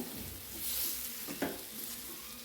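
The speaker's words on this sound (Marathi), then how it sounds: "आपल्याला वांग आणि बटाटा कापून घेतलेला ते ह्याच्यामध्ये सोडून द्यायचं आहे आणि हे पण आपल्याला तेलावर छान परतून घ्यायचे" Cut brinjal and potato fry in hot oil, a soft, steady sizzle with a brief stirring scrape midway through this short, quiet stretch.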